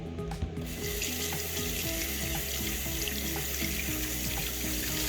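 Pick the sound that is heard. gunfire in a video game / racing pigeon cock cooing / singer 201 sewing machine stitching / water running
water running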